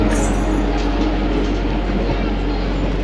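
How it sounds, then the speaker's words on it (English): A passenger train slowing right down as it arrives at Amer station in Rajasthan, India: a steady, loud low rumble of wheels and carriage noise with faint metallic squeal, heard from on board. "Got the train slowing right down. We're coming now into Amer station."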